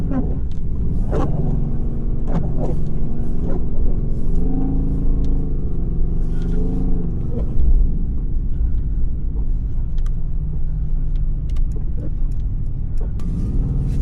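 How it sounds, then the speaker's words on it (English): Mercedes-AMG GT S driving through fluffy blizzard snow, a steady low engine rumble with mild surges in revs, loud and continuous from inside the car, with brief faint voices at times. "At this point, the snow was so fluffy that the car barely wanted to go fast."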